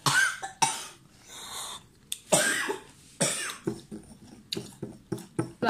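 A person coughs repeatedly and harshly up close in a series of bursts, broken by breaths and short pauses, with the coughs growing quicker and shorter toward the end.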